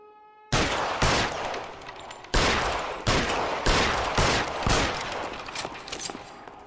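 Gunfire in the video game L.A. Noire, a series of loud, sharp shots and short volleys in an uneven rhythm, each one decaying before the next.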